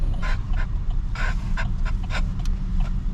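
A dog in a car barks and pants at a bison in Yellowstone's Lamar Valley, giving several short, fairly loud bursts spread over a few seconds.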